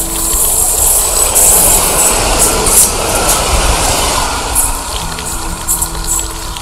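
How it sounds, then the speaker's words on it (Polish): A train rolls past on the line between Zakopane and Nowy Targ, a steady loud rumble and rattle of rail wagons holding throughout, with faint high squeals from wheels on track and no talk over it. "pociąg jedzie"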